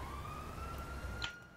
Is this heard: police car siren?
yes